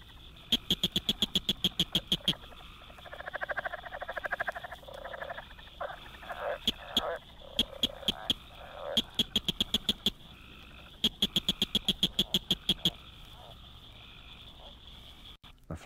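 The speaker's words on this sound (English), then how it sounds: "Blanchard's cricket frog, Acris grillus blanchardi," Blanchard's cricket frog calling at the edge of the Ozark Mountains in Missouri: rapid runs of sharp, clicking notes repeat in bursts, close and loud, with other frogs croaking more softly in the background.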